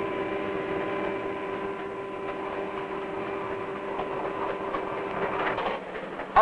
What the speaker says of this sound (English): Freight train number 40 is carefully winding its way through the many tracks that lead out of the freight station